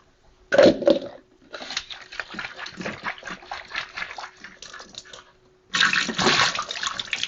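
Water runs and splashes from a tap while sprouts are rinsed under it, a steady watery rush with a brief loud burst at the start and a stronger gush near the end.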